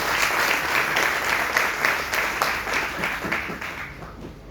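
Audience applause in a medical lecture hall, a steady wash of many hands clapping throughout that eases slightly toward the end, with no talk over it.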